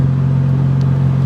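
An idling car engine warms up after starting, a steady loud low hum with no revving, constant and close throughout.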